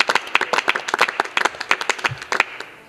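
Loud applause and clapping from a worship music event audience, dense rapid claps building and sustained for about three seconds, then trailing off.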